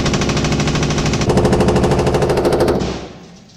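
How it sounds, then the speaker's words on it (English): A belt-fed machine gun in .30-06 fires one loud sustained automatic burst at close range, a rapid even stream of shots for about three seconds before it stops and the echo fades. "This is a belt-fed machine gun, and it's automatic all the time."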